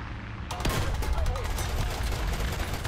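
Rapid enemy .50 cal machine gun fire in the War Thunder tank battle, a dense rattling burst that starts abruptly after a brief lull and continues steadily and loudly over game noise, with someone talking over it.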